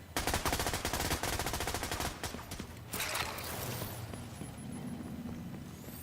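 Gunshots in PvP combat in The Division 2, a rapid string of fairly quiet automatic shots for about two seconds, then a few sharper single reports fading into ambient game noise.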